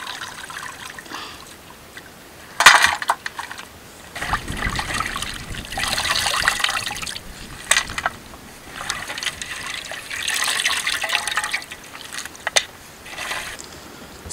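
Water is poured into a cooking pot while a village meat fry is prepared in North Karnataka, heard as intermittent splashing and trickling bursts with clanks of the vessel, close by and without talk.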